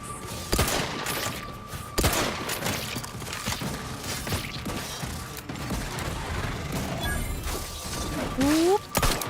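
Video game gunfire with sharp shots scattered over a busy mechanical, clanking backdrop, including louder cracks near the start and end, with some talk-like sound mixed in.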